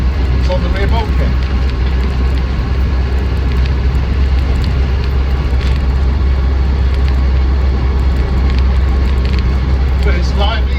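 A Land Rover Defender 90 hardtop with a 200Tdi diesel engine is running, a loud, steady low rumble that fills the clip from start to end, heard from inside or close by, with a voice talking over it.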